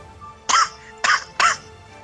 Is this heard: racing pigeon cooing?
no